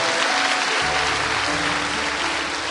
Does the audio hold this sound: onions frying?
no